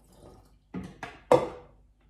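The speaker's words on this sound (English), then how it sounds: "I'm going to add some more water" Water poured in short splashing bursts into a thick raw chocolate cake cream, three distinct liquid pours growing louder, heard close up with no talking.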